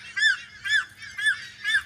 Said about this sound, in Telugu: కోయిల అరుస్తూ ఉంది పైన అదిగోండి అక్కడైతే కూర్చోంది